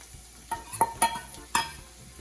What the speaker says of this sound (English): I'm gonna begin by placing my onions into my oil.